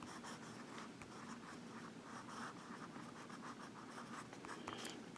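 Visconti fountain pen with a medium steel nib writing on paper in Levenger Forest ink, giving a steady, close, soft scratchy rustle of strokes that runs throughout with no talking.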